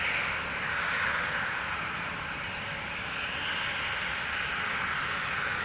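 An airliner rolls for takeoff at Amsterdam Schiphol, its engines giving a broad, sustained roar at moderate distance that holds steady throughout.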